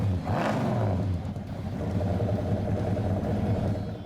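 A 1968 Plymouth Roadrunner muscle car with a 426 Hemi engine gives a brief throaty rev at the start, then settles into a deep, lumpy idle rumble that continues steadily.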